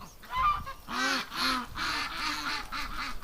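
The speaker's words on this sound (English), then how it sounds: "we got some ducks coming out of the barn" Several ducks call near a barn on a frozen winter day, a run of honking, nasal quacks repeating in short bursts at close range with no talking.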